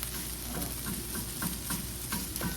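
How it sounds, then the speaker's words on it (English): An omelet and sausage frying together in a pan, a faint steady sizzle with a few light ticking taps of a utensil, quiet and close, no voices. "And here's our sausage getting cooked too."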